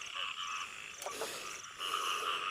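Frogs croak in a chorus, rapid pulsing calls repeating over a constant background of other frogs, close and fairly loud, with no voices.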